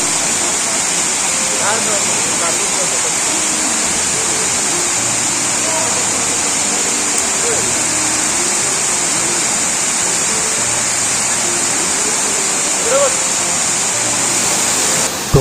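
Monsoon waterfall at Ambe Hatvij near Junnar, a constant loud rushing hiss of falling water filling the whole scene, with a few faint bird calls and sounds from people nearby.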